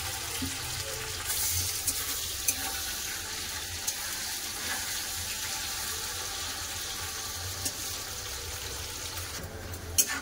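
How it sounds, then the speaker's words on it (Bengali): Green banana and potato slices frying chip-style in white oil in a kadai, a continuous moderate hiss and bubbling that holds evenly with a few small clinks, no voices. "কলা আছে তো একটু চিপসের মতন ভাজবো,"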